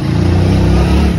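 Motorbike engine running in a village, a loud steady low drone with a slight rise in revs over a short stretch, no talking.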